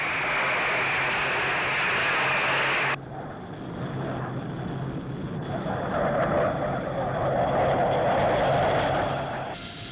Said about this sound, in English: The Lightning, Britain's supersonic fighter, with a performance that's mainly on the secret list